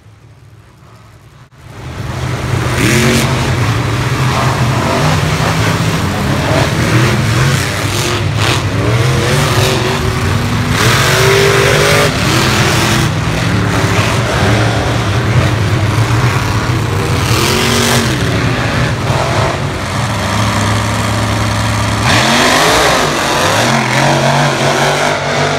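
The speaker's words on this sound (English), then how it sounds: "one of the really cool things about this was just hearing the amazing sound the engines made" After a brief quiet start, monster truck engines roar and rev loudly and continuously at a Monster Jam event, with surging throttle swells lasting through the rest of the clip.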